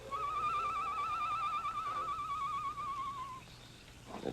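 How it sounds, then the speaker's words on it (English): A low, wavering whistled bird call, like an owl or night bird, sounding as an effect in an old-time western radio drama. One sustained warbling hoot lasts about three seconds over a quiet background hiss, with no voices. "he heard the low call of a night bird outside the barred window"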